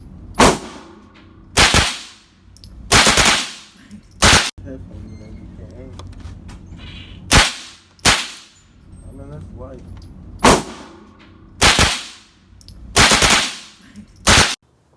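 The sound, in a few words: gunshots at a gun range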